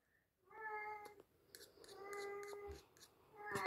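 A cat meowing close by, several drawn-out tonal meows in succession with a few sharp clicks between them, fairly loud and alone.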